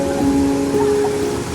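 Rain falling steadily outdoors at sunset, a dense, even patter and hiss that stays constant and fairly loud, with no talk.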